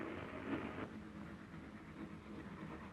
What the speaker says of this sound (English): From Oxenholme, the Lakes Express is taken on by a tank engine to Windermere